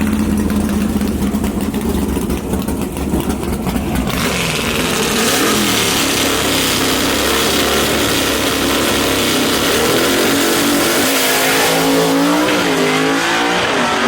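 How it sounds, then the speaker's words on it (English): A gasser drag race car makes a solo competition pass at a drag strip, its loud engine roaring continuously and rising as it launches and pulls away, with broadband track noise throughout. "Todd Wimberly going to be taking a competition single right here in the AFX shootout"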